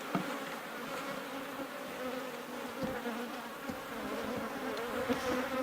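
Honey bees drone in a dense, continuous buzz around an open hive while frames of new comb are inspected, a steady near swarm hum with occasional louder passes close by.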